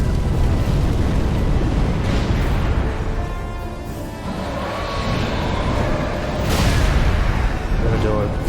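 Dense, roaring fire breath from the Nameless King's dragon in the video game Dark Souls 3, a loud sustained rumbling blast with surging bursts, layered with heavy game effects and a voice talking over it.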